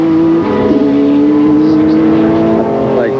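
IMSA race cars, including slower Camel Lights class cars, run on the Mid-Ohio track during a 500 km event, with a steady, loud engine drone and gear changes, heard under talk.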